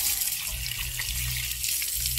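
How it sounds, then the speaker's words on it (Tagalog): Water gushes hard and steady from a tap at a resort, a continuous close rushing splash with no pauses. "Lakas ng tubig dito guys oh."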